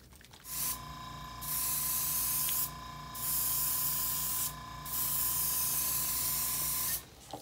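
An airbrush sprays Vallejo sand gray paint onto a diorama base with a steady, close hiss in three long bursts, each cut off by brief pauses, over a constant low background hum.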